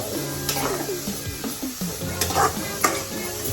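Halwa frying in ghee and being stirred in a pan: close, loud sizzling with repeated scraping strokes of a spoon, no speech.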